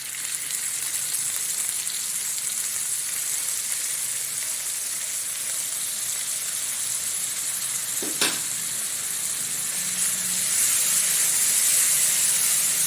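Green chillies fry in a pan for cabbage curry, a steady close sizzle and hiss throughout with a sharp clink of a utensil near the middle and the sizzle swelling brighter toward the end.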